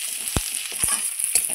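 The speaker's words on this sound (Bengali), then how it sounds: "পেঁয়াজ কুচাই এটা একটু ভালো করে নেড়ে নেব" Chopped onion sizzles in oil with garlic and green chilli for a red amaranth greens dish, a steady close hiss broken by three sharp spatula scrapes as it is stirred.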